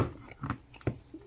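Close chewing of a cheesy pulled pork casserole with melted Gouda, a few soft, wet bites and munches in a short burst, near and fairly quiet with no talk.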